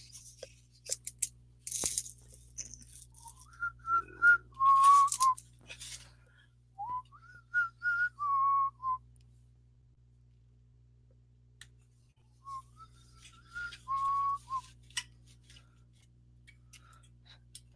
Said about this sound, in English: I just keep whistling the only part I heard